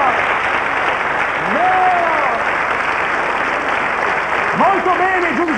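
Audience applause at an Italian show fills the hall as a steady dense clapping wash, with a voice talking over it near the start and again near the end.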